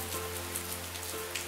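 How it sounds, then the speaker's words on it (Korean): Steady rain falling on a surface on a rainy day in Jeju, a dense, even hiss of drops with a low constant hum underneath, continuous and fairly soft with no voices. "비가 내리고"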